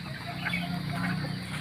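Large unfed chickens cluck restlessly in a close, agitated chorus of short, overlapping calls, with no talk.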